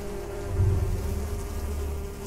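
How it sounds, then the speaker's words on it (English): Bees buzz in the video game Niffelheim, a continuous close droning hum that swells slightly and holds steady throughout. "Then bees will attack you as well"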